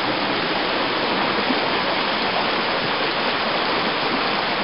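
Rushing stream water on a mountain hike, a steady, dense broadband wash of flowing water close by, continuous and unbroken, with no voices over it.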